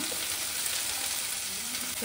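Tomato pieces hit hot tempering oil with onions already in the pan, a close, continuous sizzle with light stirring throughout the short stretch and no voices.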